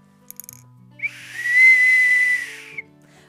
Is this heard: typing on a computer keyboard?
no